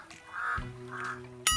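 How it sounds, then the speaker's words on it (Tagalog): A noisy crow caws repeatedly at an outdoor seafood meal of grilled squid in the Philippines, giving two harsh, drawn-out calls followed by a sharp, loud one close by. "Napakaingay naman itong uwak na to."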